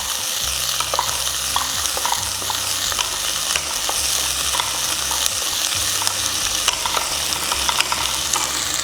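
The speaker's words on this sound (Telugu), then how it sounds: "ఉల్లిపాయలు చక్కగా కొద్దిగా బ్రౌన్ అవ్వాలండి, అప్పుడు దాకా వేయించుకోవాలి మనం." Onions fry in a pan over medium-high heat for a home-style mutton biryani, making a loud, continuous sizzle with a low steady hum beneath and frequent small stirring clicks throughout, with no talking.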